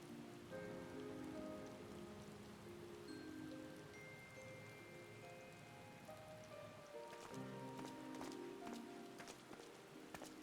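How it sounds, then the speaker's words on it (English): Steady rain falls in the fantasy world of Final Fantasy XIV, a continuous hiss of drops on surfaces with a soft musical score and tonal game chimes layered over it, no voices. "Yeah, it's raining."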